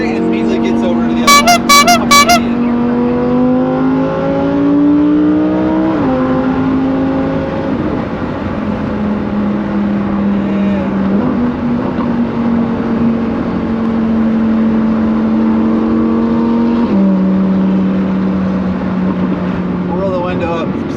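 A Lamborghini accelerates onto an interstate, its engine pulling steadily through long gear sweeps with a few upshifts, loud and heard from inside the cabin along with road and wind noise.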